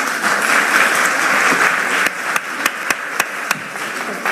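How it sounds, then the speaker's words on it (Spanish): Audience applause at a gathering with children and the president of Colombia, loud dense clapping that thins into a few distinct, separate claps toward the end. "Por favor, un fuerte aplauso."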